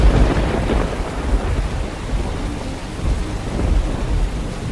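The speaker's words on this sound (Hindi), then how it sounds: "आसमान से टूटती बिजली की गड़गड़ाहट ने माहौल को भयभीत कर दिया।" A loud thunderstorm with deep rolling thunder over steady heavy rain, the rumble swelling early and continuing throughout with no voices.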